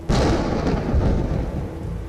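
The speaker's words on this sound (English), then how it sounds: "a thunderstorm rolls in and cuts our patrol short" A deep, rumbling roll of thunder, loud and sustained, fading slightly over a couple of seconds.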